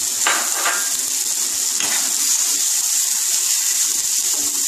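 Capsicum stir-fried for chilli soya sizzles in a hot pan, with a bright continuous hiss, a few scraping stirs early on and small crackles underneath.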